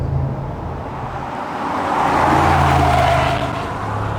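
A 2024 Mercedes-AMG G 63 driving, its engine note swelling and easing over a steady roar of road and tyre noise, loud and close throughout.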